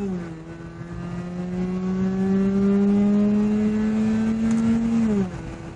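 A rotary-engined car with a tiptronic gearbox revs as the accelerator is pressed, its steady droning note climbing gradually in pitch and loudness before dropping off sharply near the end.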